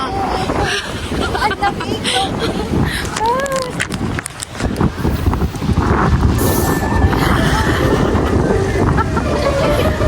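Wind roars and buffets the microphone throughout, growing stronger near the end, while voices talk over it.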